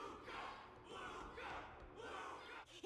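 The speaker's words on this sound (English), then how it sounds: "Everyone's cheering for you, Luca." A distant crowd cheers in the video game Honkai: Star Rail, swelling waves of a broad roar that rises and falls a few times with no clear voices.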